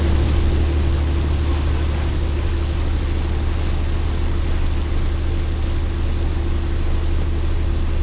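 A squid-fishing boat's engine drones steadily as the boat comes back into harbour at the Khanh Hoi estuary, a loud continuous low rumble with no pauses and no voices.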